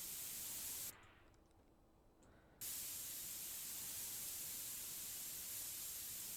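Steady broadband hiss from a spray tool at work on a car in Car Dealer Simulator, loud and continuous, broken by a brief pause of about two seconds before resuming, with no talk.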